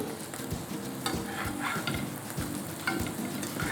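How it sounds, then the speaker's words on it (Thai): Roti frying in a pan at a street cart, a steady close sizzle with light stirring and scraping taps running throughout, no voices. "ทอดนะครับให้โรตีเราเหลืองกรอบทั้งสองด้าน"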